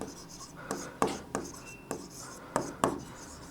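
Marker or chalk strokes tap and scrape on a classroom board in a biology lesson, giving several short, distinct writing bursts with pauses between them, close and fairly clear.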